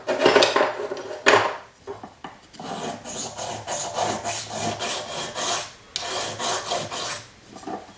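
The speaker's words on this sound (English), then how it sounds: "you can do that with a file, or you can do it with sandpaper. I'm going to use sandpaper" Sandpaper rasps along the edges of a handmade sashiko thimble in steady, close back-and-forth strokes that pause briefly and then resume, with no talking.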